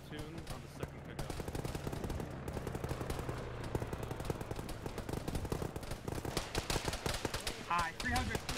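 Heavy automatic gunfire in a ShackTac military video game, dense rapid bursts sounding continuously near and far under radio-style voices and talk.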